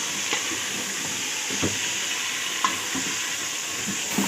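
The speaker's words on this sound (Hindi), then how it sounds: "ओके जी, इसको हल्का फ्राई किया है हमने अभी।" Beef pieces frying in a pot with browned onions during beef biryani preparation, a steady close sizzle with occasional scraping stirs and soft clinks throughout, no talking.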